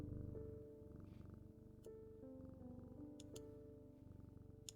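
A pet cat purring while being stroked, a soft continuous rumbling hum with a steady pulsing rhythm, close and fairly quiet, with a few faint clicks over it.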